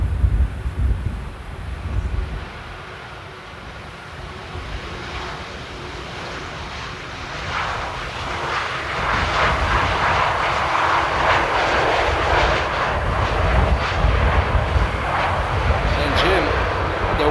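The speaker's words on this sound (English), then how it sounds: "And there we go. Beautiful landing." A fixed-wing airliner lands at Amsterdam Airport in strong wind, its engine roar swelling from a steady rumble into a loud, broad rush, with wind buffeting the microphone throughout.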